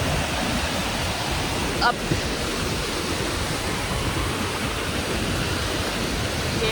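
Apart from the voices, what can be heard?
Upper Duden waterfall, rushing white water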